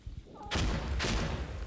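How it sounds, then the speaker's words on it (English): Grenade blast in the video game Arc Raiders, a loud, close booming explosion with a second thump shortly after, ringing out over game noise. "I'm throwing a grenade"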